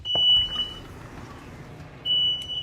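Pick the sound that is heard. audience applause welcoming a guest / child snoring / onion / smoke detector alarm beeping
smoke detector alarm beeping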